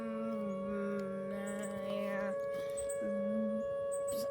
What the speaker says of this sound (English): I'm gonna wait till the tornado siren stops